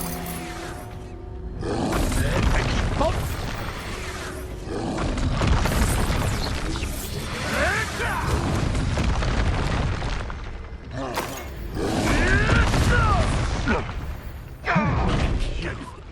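A blasting spell detonates in Hogwarts Legacy combat, heard as a string of loud booming explosions and rumbling impacts layered over dense game music and effects, sustained across the whole stretch with repeated heavy bursts.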